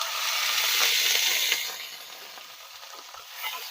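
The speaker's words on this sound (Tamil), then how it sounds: "இதுவும் சேர்த்து நல்லா வறுத்துடலாம்" Small onions and spices sizzling and frying in a pan while cooking chicken kulambu, a steady broadband hiss that eases slightly toward the end, with faint stirring scrapes and no talk.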